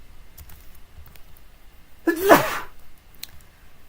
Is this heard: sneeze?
yes